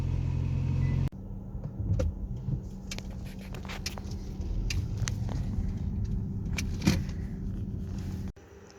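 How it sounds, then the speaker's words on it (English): A Volkswagen Passat starts up and runs with a low engine hum and cabin rattles, a few clicks and thumps over the idle, then the engine cuts off near the end. "About to go for the last drive of the Volkswagen, so hopefully it sells."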